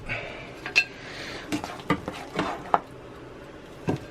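Bangers and mash being dished up from a cast iron pan onto plates, with a handful of sharp clinks and scrapes of utensil against pan and plate, fairly close, spaced irregularly over quiet kitchen background.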